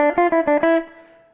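Electric guitar playing a short group of alternate-picked sixteenth notes: about five quick plucked notes, the last ringing out and fading, close and alone.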